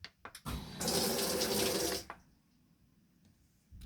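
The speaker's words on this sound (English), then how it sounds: "And we also got a little faucet" Water runs steadily from the small built-in faucet of a Whirlpool 2-in-1 agitator washer for about a second and a half, close and fairly loud, then shuts off, leaving faint background.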